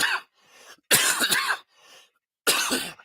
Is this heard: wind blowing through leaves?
no